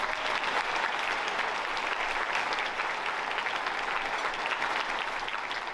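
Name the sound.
audience applause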